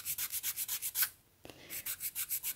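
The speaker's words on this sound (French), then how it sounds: "Donc maintenant je vais venir limer les côtés." A nail file rasps along the sides of gel nails in quick regular strokes, about six per second, close and fairly quiet, with a brief pause in the middle and no speech.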